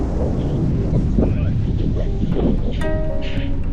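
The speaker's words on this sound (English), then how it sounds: "Just a little bit windy." Strong wind buffets the microphone in a constant loud roar at the Tottori dunes in Japan, with a voice speaking briefly underneath.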